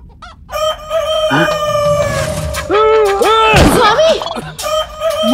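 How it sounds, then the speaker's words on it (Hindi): A hen said to lay golden eggs, in an animated Tenali Rama tale, gives loud, repeated clucks and drawn-out squawking calls close by, filling the whole stretch. "ये ऐसी वैसी मुर्गी नहीं है, वासुदेव की मुर्गी है"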